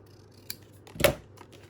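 A single quick snip of scissors cutting down a paper pocket for a junk journal made from 12-inch patterned paper, with a faint tap just before and a quiet room around it.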